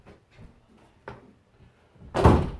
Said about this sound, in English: I got to close this door though because I forgot to.